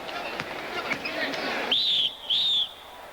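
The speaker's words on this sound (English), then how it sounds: "Whistle blew." A referee's whistle shrills twice, two short high blasts, over crowd and court noise and bouncing during a 1972 Olympic basketball final rematch.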